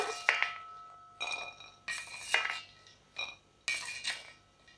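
Roasted cashews are scooped out of a pan in about four separate strokes, each giving a sharp metallic clink and rattle, followed by a short quiet gap.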